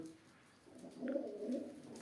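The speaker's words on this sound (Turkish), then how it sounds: "Kuşlar burada." Pigeons in a village loft give soft, low cooing calls that swell and fade over a couple of seconds, faint and close, with no voices.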